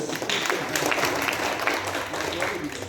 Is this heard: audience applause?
yes